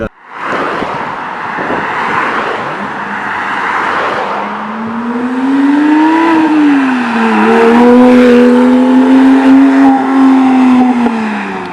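A loud Porsche 911 GT3 engine revs and holds a high, droning pitch, rising and dipping as it accelerates past on a track, with some tire noise underneath.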